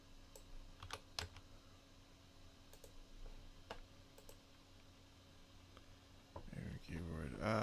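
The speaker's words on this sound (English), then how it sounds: "Keyboard." Typing on a gaming computer keyboard: scattered sharp key clicks in irregular bursts, fairly quiet against a low background hum, with a louder clatter of activity near the end.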